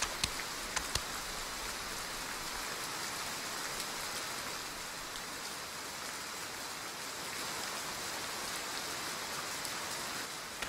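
Heavy rain in an animated drama, a steady, even wash of falling water that holds constant throughout, with a couple of faint knocks at the start and no speech.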